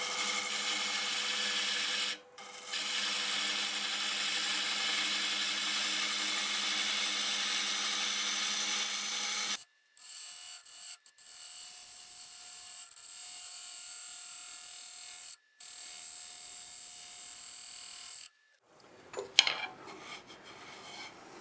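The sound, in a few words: wood lathe making a cleaning cut on tangent stave turning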